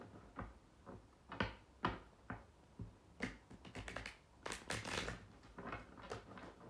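Tarot cards shuffled by hand during a reading: a string of crisp, close riffling snaps and taps, sparse at first and then bunching into a denser flurry, with no talking.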